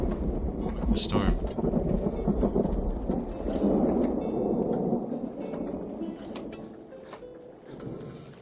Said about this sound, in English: That's the storm.